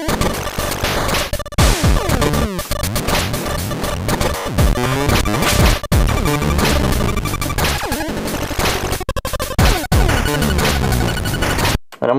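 Dense, harsh Game Boy chiptune made in LSDJ pounds out a triplet-accented section, the instrument crunching and glitching as if falling apart, loud and continuous with rapid noisy bursts.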